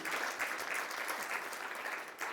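Audience applause at an awards ceremony in Monaco, a dense, steady wash of clapping hands held at an even level for the whole stretch, with no voices over it.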